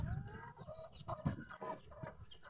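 A red jungle fowl rooster gives several close clucking calls and a short crowing burst in a farm setting, fairly faint, with no talk.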